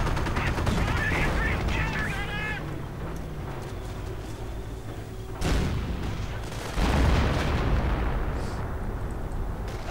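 Gunfire and artillery in a WWII strategy game, with a .50 caliber machine gun on a Sherman tank suppressing grenadiers. Bursts and booms roll on continuously, and two heavier blasts land past the midpoint.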